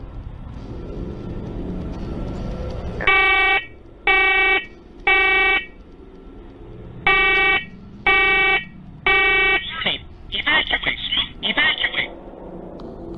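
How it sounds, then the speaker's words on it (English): A carbon monoxide alarm in a house basement sounds six loud shrill beeps in two groups of three, then a person speaks over background noise. "Keep in mind that this alarm has not gone off since the last time he went downstairs."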